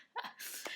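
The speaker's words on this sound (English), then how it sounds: "Sorry for my dog sneezing in the background" A small dog gives a single quick sneeze, a sharp nasal burst that is faint and slightly distant in a quiet room.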